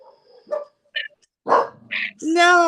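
A neighbor's little dog gives several short, sharp barks with pauses between them, close and loud, with a voice mixed in toward the end.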